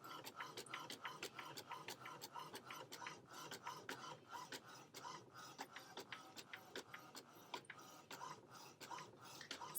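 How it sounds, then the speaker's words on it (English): An HP DeskJet printer feeds and prints on printable HTV, its print head shuttling in a steady run of rhythmic mechanical passes, close and moderately loud, with faint background voice at times. "And so now it is printing."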